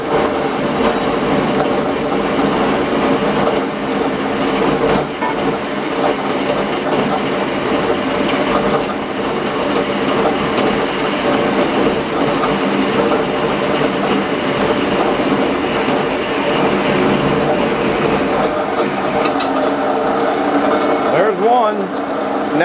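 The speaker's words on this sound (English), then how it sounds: "We're gonna cut this one length off here. It ain't too much, just a little bandsaw cut." A bandsaw cuts a metal shifter rod to length for a sawmill, giving a continuous, fairly loud mechanical whir and grind that runs steadily throughout and ends in a brief scrape.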